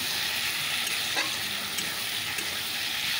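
Spice paste sizzles and fries steadily in a pan with already-fried vegetables, a constant close hiss with a soft stir or two and no talking, part of a home cooking session where tangra fish is also being prepared.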